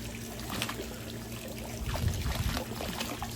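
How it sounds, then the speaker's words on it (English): Steady trickling and gushing water runs through a hose from a 5000 GPH water pump beneath a low, continuous mechanical hum, close and fairly quiet. "so you can see I'm pulling water from the pump."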